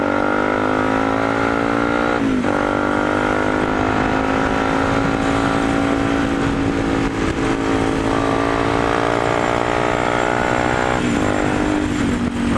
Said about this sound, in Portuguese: Já fez seu escape canarinho, famoso escape canarinho. Você acelera ele a subir.